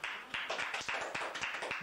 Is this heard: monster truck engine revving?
no